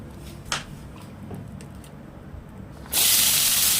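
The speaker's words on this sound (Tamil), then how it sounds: "நம்ம ஒரு ஸ்பூன் தேங்காய் எண்ணெய் விட்டுக்கலாம்" Coconut oil heating in a kadai while a Tamil pirandai (veldt grape) chutney is cooked: faint clinks over a low hiss give way to a sudden, loud, steady sizzle that fills the last second.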